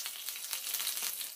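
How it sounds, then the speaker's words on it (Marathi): Mustard seeds and curry leaves spluttering in hot oil in a pan, a dense crackling sizzle with rapid pops, close and steady throughout. "पॅन मध्ये तेल आता तापलेलं आहे. त्यात मोहरी घालते. त्यातच 3-4 कढीपत्त्याचे पानं घालते आहे."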